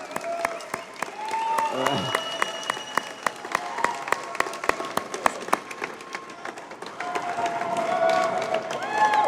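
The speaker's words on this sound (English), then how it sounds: "Big round of applause" Banquet audience applauding at an awards dinner, steady clapping across the room with sharp individual claps standing out, while a presenter talks over it.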